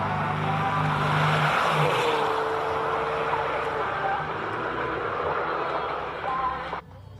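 A race car launches off the start line at the Simola hillclimb, its engine a loud sustained roar over crowd and commentary noise, cutting off sharply near the end.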